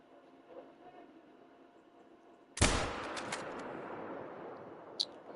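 A single loud rifle shot fired at a bobcat in a hunting game, a sharp close crack at about 2.6 seconds with a long decaying echo and a faint click near five seconds, after a quiet ambient lead-in.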